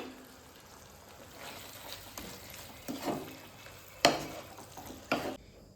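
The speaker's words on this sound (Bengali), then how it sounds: "একটু নাড়িয়ে নেব এক মিনিটের জন্য গ্যাসের ফ্লেমটাকে অন রাখবো যাতে ধনে পাতার স্মেলটা পুরো রান্নার মধ্যে মিশে যায়" Tangra fish curry with coriander leaves stirred in a pan over a gas flame, a quiet, low sizzle with a few sharper scrape and clack strokes near the end, close and without speech.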